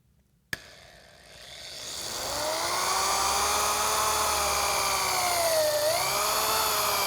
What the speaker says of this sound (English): I'm going to line up the drill.